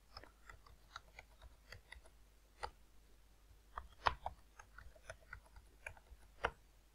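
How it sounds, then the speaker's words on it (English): Quiet, irregular taps of fingers typing on a computer keyboard, a sparse run of light clicks at close range in an otherwise hushed room. "I'm typing the same password."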